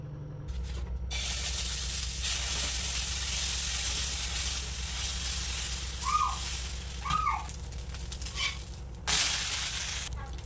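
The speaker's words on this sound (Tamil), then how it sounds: "இப்போ நம்ம தோசையை ஊற்றிக்கலாம்" Sorghum dosa batter sizzling on a hot pan, a steady close hiss running for several seconds with a few brief clinks and scrapes.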